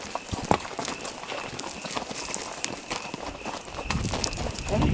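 Horses' hooves clip-clop in an irregular walking rhythm on a trail ride, close and moderately loud, with faint rustling and crickets in the background.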